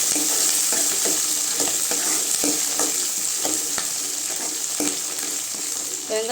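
Shallots, garlic and curry leaves sautéing in a pan for Tamil sundakkai kuzhambu, a loud constant sizzle with periodic scraping stirs of a spatula, close up and without talk.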